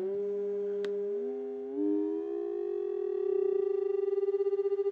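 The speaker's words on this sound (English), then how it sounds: "So there's 200 hertz in the left and 198 hertz in the right." Binaural beat tones, a pure 200 Hz tone in the left ear against 198 Hz in the right, a steady electronic hum that slides and settles into a slow pulsing throb, clean and alone.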